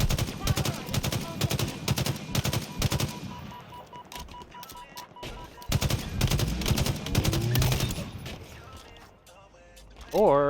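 Video game gunfire crackles in rapid automatic bursts and single shots, loud and close, broken by short pauses and mechanical clicks, with speech and game sounds mixed in.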